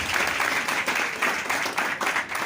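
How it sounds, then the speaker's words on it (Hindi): Audience at a church service claps enthusiastically, a dense, sustained wash of applause throughout, loud and steady with slight swells. "जोरदार तालियां बजाएंगे उसके लिए, जोरदार जोरदार जोरदार"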